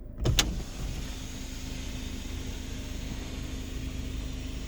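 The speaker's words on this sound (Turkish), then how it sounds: "Sunroof bu şekilde açıldı." Electric sunroof motor on a Ford Kuga opening the roof, heard from inside the car after a brief click, a steady, fairly loud whirring drone that runs on evenly without talk.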